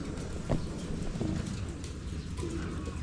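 Pigeons coo softly inside a trapdoor loft, low murmuring calls repeating over a steady background, with no voices.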